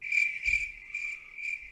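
Crickets chirp in four quick, shrill pulses, close and clear against an otherwise quiet background.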